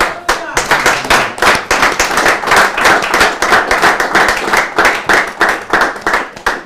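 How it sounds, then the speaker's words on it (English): An audience at a church teaching session gives a steady round of applause, loud rhythmic hand clapping that continues densely and evenly for several seconds with no talk over it. "let's give the Lord a round of applause"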